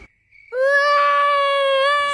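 A child lets out a sudden sustained scream after a short quiet pause, loud and close, holding one high wailing pitch for over a second and a half.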